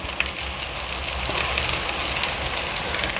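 Onion and fresh garlic fry in a pan, making a steady crackling sizzle with scattered pops at close range throughout, no voices.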